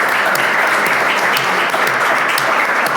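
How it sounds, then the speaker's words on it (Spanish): An audience at a school conversation event claps together in loud, dense, sustained applause that fills the room evenly throughout, with no voices standing out. "Yo les pido un aplauso para nuestros compañeros y compañeras de la Fundación."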